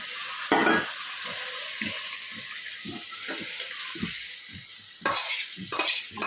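Fish curry being sautéed and stirred in a pan, a steady sizzle cut by a rhythmic series of scraping spoon strokes, with louder bursts of stirring near the start and end.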